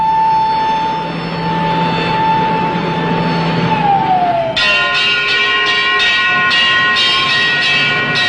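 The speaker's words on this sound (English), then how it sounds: "the banshee wail of the siren echoes the warning" A loud air raid siren holds a steady wailing tone, then winds down in pitch, giving way to repeated clanging bell strikes.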